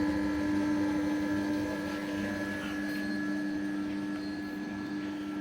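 Bode 5000 kg welding positioner with a broken gearbox foot plate, its electric motor and gearbox running at variable speed, giving a steady mechanical hum with a constant whine throughout.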